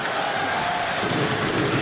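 Ice hockey arena crowd at an NHL game between the New Jersey Devils and Columbus Blue Jackets yelling for a penalty, a dense, loud continuous roar of voices.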